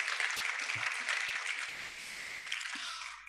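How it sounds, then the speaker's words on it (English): Audience applause at a university convocation lecture in a large hall, a steady dense wash of clapping that holds at an even level for a few seconds without speech. "Please help me give them another round of applause."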